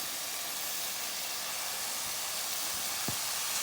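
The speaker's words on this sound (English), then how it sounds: "So in the pan, I just added my onions, and I'm gonna go in with the carrots" Onions and carrots sizzling in a pan for chow mein, a steady, dense hiss of frying that runs throughout, with a couple of faint low knocks from the pan near the end.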